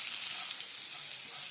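Stuffed bitter gourd with masala sizzles steadily in a covered pan over low heat, a continuous soft hiss and crackle with no voices.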